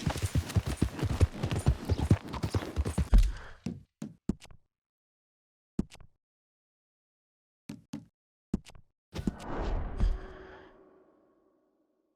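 Horse hooves clip-clopping in Red Dead Redemption 2, a quick rhythmic trot that slows to a few scattered steps, then a final short flurry with a soft breathy snort.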